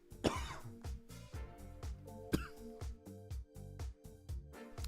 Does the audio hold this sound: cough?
yes